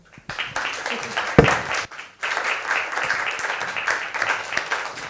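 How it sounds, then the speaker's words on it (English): Audience applause at a panel event on climate disinformation in African media: broad, dense clapping filling the room steadily for several seconds, fairly loud and close, with a brief pause midway before resuming. "Can we have another round of applause, please?"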